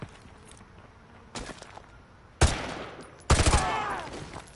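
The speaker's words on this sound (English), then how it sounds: "Roach, take the shot!" Sharp gunshots from a sniper-style rifle in Call of Duty: Modern Warfare 2 Remastered, with a softer shot early, then two loud, close cracks about a second apart, each with a ringing, rattling tail over a quiet ambient bed.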